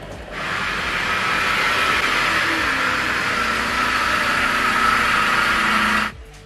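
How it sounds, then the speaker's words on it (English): A car that had a dead battery runs steadily after a jump start, giving a loud, continuous hissing engine drone for about six seconds before it cuts off abruptly. "The car had a dead battery, so I took my dad's car and gave the Pearl a small jump."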